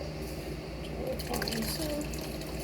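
A container is filled with water, giving a soft trickling and pouring sound with light drips, fairly quiet and close, under a low steady background hum.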